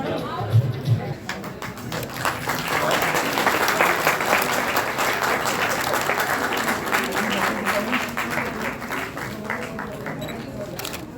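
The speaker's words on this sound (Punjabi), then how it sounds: "ਬਹੁਤ ਸਾਰੀਆਂ ਤਾੜੀਆਂ ਦੇ ਨਾਲ ਅਸੀਂ ਇਸ ਪ੍ਰਾਪਤੀ ਨੂੰ ਜਸ਼ਨ ਮਨਾਈਏ" A crowd at a college foundation day celebration, the 86th at Government Rajindra College, applauds in sustained, dense, fairly close clapping for about ten seconds, under a speaker's voice.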